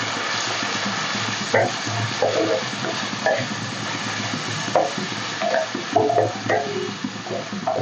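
Ground onion paste fries for fish curry in a clay pot, with a dense steady sizzle and occasional wet bubbling and scraping stirs, close and fairly loud with no speech.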